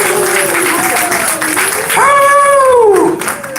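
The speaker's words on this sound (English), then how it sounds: "Everybody applaud for Slash." An audience at a live 2019 Horror Host Hall of Fame ceremony applauds an honoree named Slash, giving sustained loud clapping mixed with tonal whoops or cheering.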